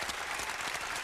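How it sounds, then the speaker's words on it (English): Studio audience applause at a live talk show, a dense steady wash of clapping lasting about a second with no voices over it. "Give him another round of applause."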